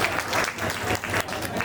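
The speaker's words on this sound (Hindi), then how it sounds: "एक बार जोरदार ताली कमल के लिए।" Stage audience at a creator event in Kichha, Uttarakhand gives a loud, sustained round of applause for a performer named Kamal, dense clapping filling the whole moment with no voice over it.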